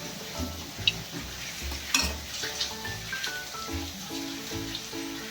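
Spinach bhajiya fritters sizzle and crackle steadily in hot frying oil, with occasional sharper pops. Background music with melodic notes plays underneath, and no one speaks.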